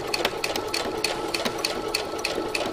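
A sewing machine stitches cotton piping in a steady, rapid run of mechanical needle clicks, close and alone without talk.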